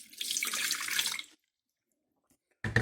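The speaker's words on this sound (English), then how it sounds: "Let me fill it up with water." Water pours from a tap into a blender jug for just over a second with a bright splashing rush, then silence, followed by a brief knock or clatter at the end.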